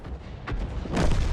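An FV304 self-propelled artillery gun fires in World of Tanks: a short boom near the start, then a fuller, louder blast about a second in, over a low rumble.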